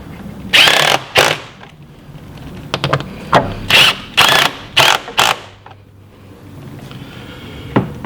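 A power tool drives bolts home on the air filter housing of a Jeep JLUR during a K&N reusable air filter install, heard as a string of short loud whirring bursts of varying length with brief pauses between them.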